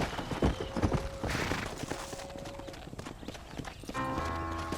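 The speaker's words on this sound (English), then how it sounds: "Hit your horse and wait for me by the stable." Horse hooves clip-clop in a steady rhythm on a ranch in the video game Red Dead Redemption, fairly close and moderately loud, with a brief whinny-like tone, some background game ambience and a musical swell near the end.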